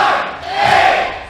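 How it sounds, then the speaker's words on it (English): A crowd at a team jiu jitsu match roars and shouts in unison for a brief, loud burst, the voices swelling and falling as they chant together. "The whole crowd is counting it down."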